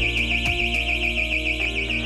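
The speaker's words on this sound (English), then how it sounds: "If the pre-alarm is disregarded and the panic bar is fully depressed, the trigger angle activates the main alarm" A panic bar door's main alarm sounding, a loud continuous electronic warble with a rapid pulsing tone, steady and close, alone without talk.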